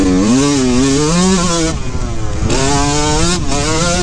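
A Yamaha YZ125 two-stroke dirt bike on a motocross track revs loud and close, its pitch climbing and falling through shifts with a brief dip in the middle, continuous for about four seconds.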